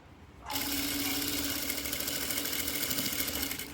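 A domestic sewing machine stitches bias binding along the edge of a hem, starting abruptly after a brief quiet moment and then running as a steady, close, continuous mechanical whir with no talking.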